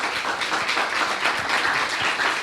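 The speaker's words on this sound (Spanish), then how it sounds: "Un aplauso," A lecture audience at a university event claps in a steady, dense burst of applause that holds evenly for the short stretch, with no voices over it.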